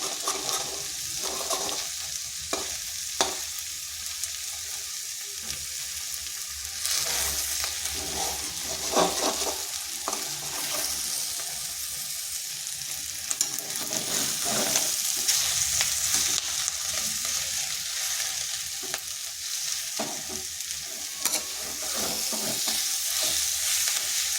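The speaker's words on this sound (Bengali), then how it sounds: "এরপর ডিমটা এইভাবে ভেজে নিচ্ছি।" Two eggs fry and are stirred in a pan with spring onion greens, a continuous sizzle accompanied by frequent scraping and stirring clatters from a spatula, close and steady throughout, without any talking.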